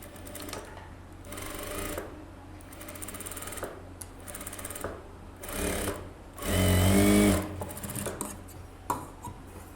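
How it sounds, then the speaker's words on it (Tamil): A sewing machine stitches a blouse in several short bursts of rapid mechanical clatter, separated by pauses, with one louder sustained run near the end; no talking. "1/4 இன்ச் விட்டுட்டு அப்படியே தையல் போட்டுக்கலாம்"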